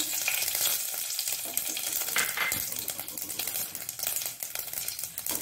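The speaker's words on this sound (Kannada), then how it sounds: "ಎಣ್ಣೆ ಬಿಸಿಯಾಗಿದೆ ನೋಡಿ. ಈಗ ಸಾಸಿವೆ ಹಾಗೂ ಜೀರಾ 2 ಸಹ ಹಾಕ್ಕೊಳ್ತಿದ್ದೇನೆ ನಾನು" Mustard seeds and cumin crackle and sizzle in hot oil for a Mangalore-style methi shallot gravy, a dense, bright spattering that runs throughout with faint metallic clinks.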